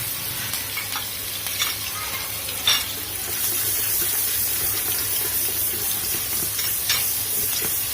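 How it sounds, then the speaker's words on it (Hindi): Green chilli, cloves and green cardamom sizzling in butter in a pan, a loud, dense sizzle after a stirring clatter, steady and close for several seconds with no voices. "1 ग्रीन चിली लेनी है, वो इस तरीके से काट दें और ये डाल दें।"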